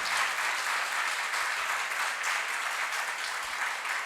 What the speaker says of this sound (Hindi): अभी करने के मामले में धीरे धीरे ताली बज रही है